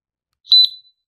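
A detection device gives a short electronic double beep, high-pitched and sharp, alone against silence in a recording.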